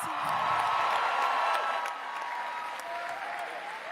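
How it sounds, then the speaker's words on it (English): Audience applause for the 2026 DC Teacher of the Year, Christopher Alberts, at a mayoral announcement: dense, steady clapping from a sizable crowd, loud at first and easing slightly after two seconds, with a few faint whoops. "One more round of applause for Mr. Alberts."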